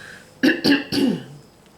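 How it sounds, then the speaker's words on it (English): Three quick, rough throat-clearing coughs in a row, close by, followed by quiet. "I'll just cough."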